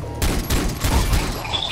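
Gunfire in the co-op video game Far Cry 3 comes as a rapid burst of loud, close shots in quick succession, with a fainter trailing sound at the end.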